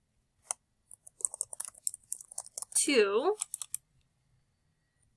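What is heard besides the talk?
typing on a computer keyboard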